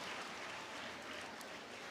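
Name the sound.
audience applause welcoming the speaker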